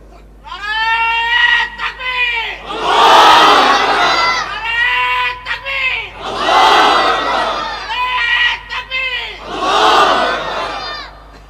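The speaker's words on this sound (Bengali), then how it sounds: "মাঝখান থেকে একজন সমস্বরে জোরালো আওয়াজে তাকবীর লাগান।" A single voice calls out, and a crowd answers by loudly shouting takbir in unison. The call and the roaring mass response repeat three times, each burst swelling and then fading.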